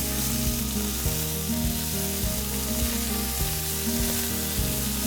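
Scallops sear in butter in a hot pan for a salad, giving a steady, dense sizzle with a low hum beneath and faint scrapes and clicks, close and unbroken with no talking.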